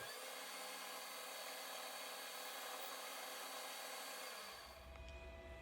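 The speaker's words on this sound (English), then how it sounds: "I'm going to sand it off so it solders in easy." Steady abrasive grinding as the end of a metal tube is sanded before soldering on a small engine fuel tank, a continuous close buzz that stops near the end and gives way to quiet shop noise.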